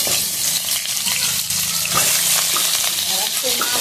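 Potatoes fry in hot oil in a kadai, giving a steady, close sizzle with faint stirring and scraping noises throughout.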